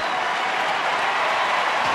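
Ballpark crowd applauding a player's big league debut at a 2009 Oakland at Los Angeles baseball game, a steady dense wash of clapping that holds loud and even for the full stretch with no talk.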